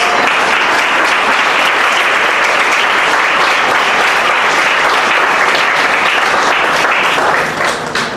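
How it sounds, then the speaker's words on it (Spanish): Sustained applause from a church congregation during a sermon, dense steady clapping filling the space at full volume from start to finish, with no voices standing out. "El aplauso."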